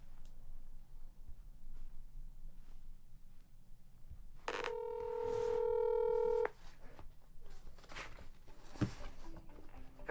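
Telephone dialing tones from a call placed to City Hall in Madison, Illinois: a cluster of loud, steady touch-tone beeps lasting about two seconds midway, with quieter clicks and room noise before and after.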